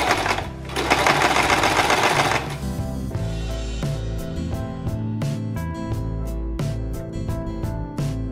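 A sewing machine stitches embroidery with blue thread, a rapid mechanical whirring burst at first, then slower rhythmic clacking stitches repeating steadily up close.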